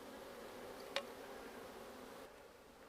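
Honey bees hum steadily around an opened hive with exposed wax comb, a soft, continuous buzz held at low level throughout, broken by one sharp click just before the one-second mark.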